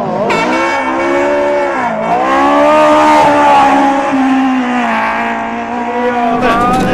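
A Volkswagen rally car racing flat out, its engine note rising and falling loud and close for several seconds with tire noise, no talk over it.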